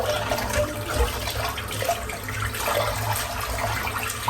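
A shaving brush is rinsed under a running bathroom tap, giving a steady, close hiss of flowing water and splashing into the sink that continues without a break.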